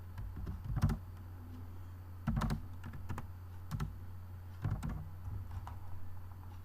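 Python code being typed on a computer keyboard: scattered clusters of crisp keystroke clicks with short pauses between them, close and fairly quiet over a steady low electrical hum.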